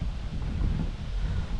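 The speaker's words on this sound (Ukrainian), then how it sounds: "Трохи вітер дує" Steady low rumble of wind buffeting outdoors, continuous and fairly loud without gusts or voices.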